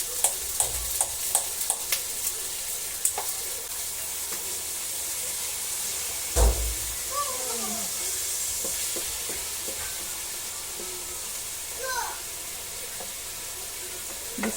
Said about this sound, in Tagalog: Gisa lang po natin ng maigi